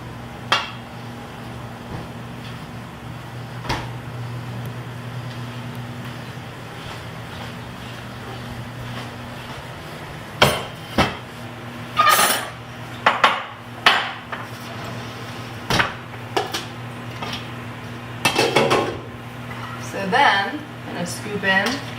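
A serving spoon clanks and scrapes against a big pot of meat in a series of metallic knocks and scoops, following a stretch of low steady hum, close by and moderately loud.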